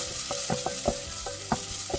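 Onion sautéing in butter in a pan, a constant close sizzle broken by repeated sharp scrapes and taps of a spatula at an uneven rhythm.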